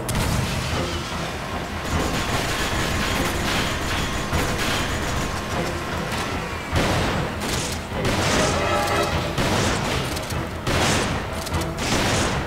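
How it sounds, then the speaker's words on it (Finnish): A flash grenade goes off during Resident Evil 5 gameplay amid dense, continuous game noise, with sharp bursts of gunfire and explosive cracks recurring loudly throughout. "Flash grenade!"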